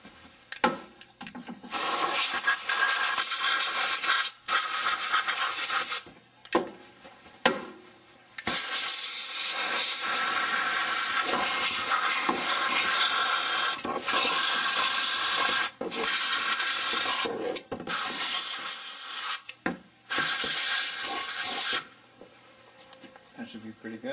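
Compressed air dusting out debris around the spark plug wells of a Saturn SL1, a long loud hissing blast broken by several brief pauses, with no one talking over it.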